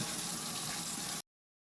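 Tap water running steadily for rinsing sweet potato slips, a close, even hiss of flowing water that cuts off abruptly after just over a second.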